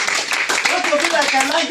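Congregation clapping rhythmically during a Sunday prophetic and deliverance church service, with a dense stream of handclaps under a loud voice speaking over them.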